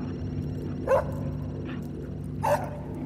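A dog barks twice, sharply, roughly a second and a half apart, moderately near, over a steady low-frequency hum in the background.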